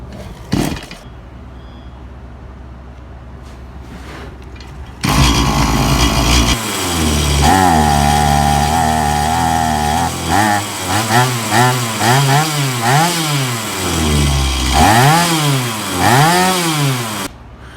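Stihl MS-180 CBEZ chainsaw after a pull rope repair: rope pulls, then the engine catches and idles loudly up close before being revved repeatedly in rising and falling bursts.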